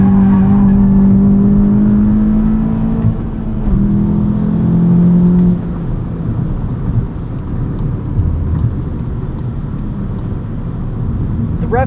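A 2022 Volkswagen Jetta GLI with a 6-speed manual on the Autobahn hums with a steady engine drone inside the cabin, its pitch rising and falling through revs and gear shifts while someone talks over it.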